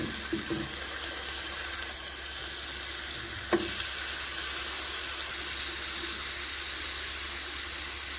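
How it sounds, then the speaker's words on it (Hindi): Marinated chicken tikka fries in a couple of spoons of oil in a pan, giving a steady, loud sizzling hiss throughout with a single sharp clink near the middle and no talking. "एक पैन लेंगे और इसमें 1 से 2 खाने का चम्मच ऑयल डाल देंगे। इसमें चिकन मैरिनेट किया हुआ रखेंगे।"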